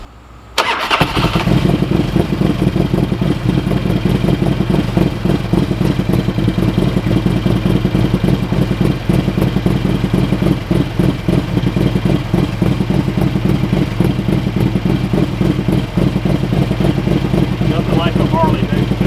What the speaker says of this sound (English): Let's start it up first. Let it sit here and idle a little bit